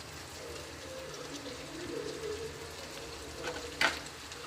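Chicken curry fries in a pan with a steady soft sizzle as tomatoes are added, followed by a short clatter of stirring near the end.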